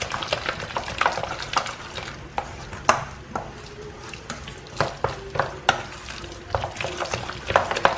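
Mixture of cauliflower, eggs and flour stirred in a bowl, a string of close, irregular scraping and clicking strokes of a utensil against the dish, with a quiet low background hum.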